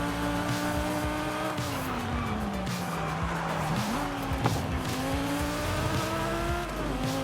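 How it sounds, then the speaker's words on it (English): Supercharged Ford GT with a V10 in Forza Horizon 5 racing hard, engine revving up and down through gear changes with a supercharger whine and tire squeal, loud and continuous with no talk. "I just don't enjoy the sound of that supercharger on the GT"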